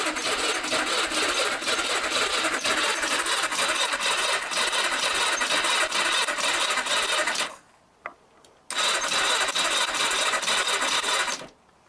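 A Yamaha XJ900S motorcycle's starter cranks the engine over in a loud, fast, whirring churn that cuts out briefly, then resumes before stopping, with no voices.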